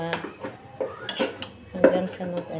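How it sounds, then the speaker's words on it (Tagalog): Utensil scraping and clinking against a pot while sticky rice cake (biko) mixture is stirred, in short irregular strokes, close and fairly loud, with talking over it. "Tapos, hahaluin na natin ng halong-halo"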